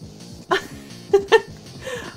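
Small dog barking in the game Animal Crossing New Horizons, three short yips over soft tonal game music, close and clear.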